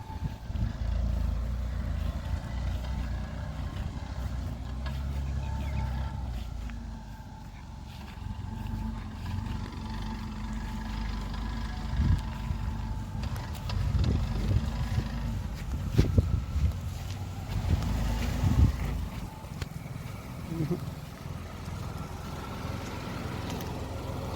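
Interior drone of a Tata Tiago car running on CNG while driving on the road, a steady low engine and road rumble with a few brief knocks and bumps partway through.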